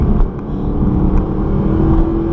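A Mercedes SLS AMG's big rear-wheel-drive V8 rumbles loudly and steadily up close, a deep continuous engine drone with no talking over it.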